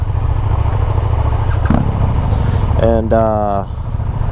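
KTM SuperDuke 1290 motorcycle on a demo ride, its engine rumbling steadily up close, then revving sharply with a rising whine for about a second before easing off, with a voice speaking over it.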